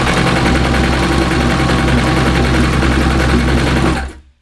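A Babylock Vibrant serger running steadily at speed while stitching a lettuce rolled hem, giving a loud continuous mechanical whir with a fast rhythmic chatter that cuts off abruptly near the end.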